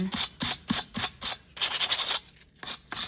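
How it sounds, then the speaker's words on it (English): Sandpaper is rubbed by hand over a wooden jewelry box being distressed for a vintage look, giving a series of close, short, rhythmic scratchy strokes, about nine in a row with brief pauses between. "take my other piece of sandpaper and just go over it a little bit more"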